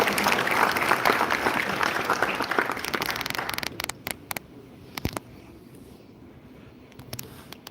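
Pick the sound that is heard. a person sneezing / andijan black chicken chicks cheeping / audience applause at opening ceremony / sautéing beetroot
audience applause at opening ceremony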